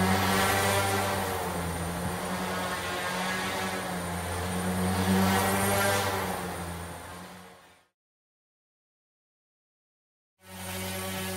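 Self-rotating single-actuated UAV drone flying indoors, with a loud steady propeller drone and strong tonal hum that swells slightly, cuts to silence for a few seconds, then resumes.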